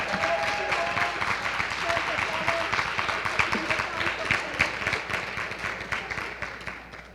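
An audience at a university Three Minute Thesis competition applauds the students, dense steady clapping throughout that fades slightly at the end.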